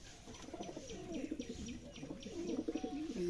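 Giribaz pigeons coo inside a pigeon house on a pigeon farm in Rajshahi, with several soft, rolling calls overlapping one after another at close range, plus faint chirps and no speech.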